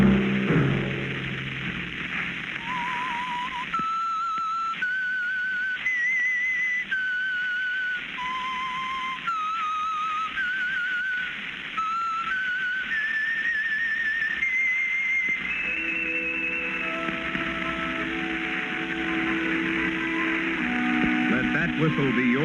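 A solitary whistled tune of held, wavering notes, the theme of the 1952 radio drama The Whistler, rises and falls over crackling static and hum, like an old radio broadcast, fading into soft orchestral tones.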